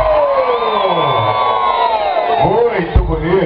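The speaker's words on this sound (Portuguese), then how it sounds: "Quem vota é Adeodato, levante a mão e dá um grito." Crowd at an open-air campaign rally for a political candidate in a neighborhood of Barra do Choça, cheering, whooping and shouting together in a loud, sustained roar with scattered higher voices.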